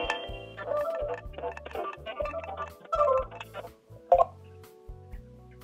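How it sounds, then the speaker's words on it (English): A phone call placed from a podcasting app gives a sequence of electronic dialing tones: rhythmic low pulses under short melodic beeps, steady and close, ending with a brighter chime. "I'm just gonna hit call and then we'll see what happens"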